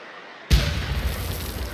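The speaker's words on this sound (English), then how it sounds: "And watch the explosion 12 o'clock" A sudden explosion in the Contagion video game bursts out of near silence into a loud, deep blast, then settles into a sustained rumbling roar that carries on to the end. No one speaks.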